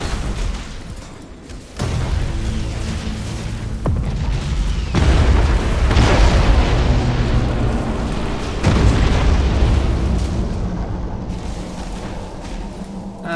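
Starships exploding and burning in the space battle game Battlefleet Gothic Armada 2: loud, deep rolling booms layered over one another, swelling in several heavy waves with a constant rumbling roar underneath.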